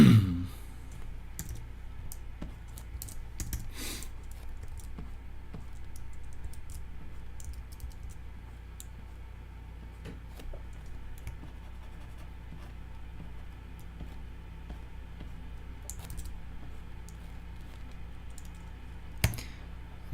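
Keys on a computer keyboard clatter in quick, irregular taps throughout, with occasional sharper clicks, while a keyboard shortcut is used in drawing software; a faint steady room hum sits underneath and no one speaks.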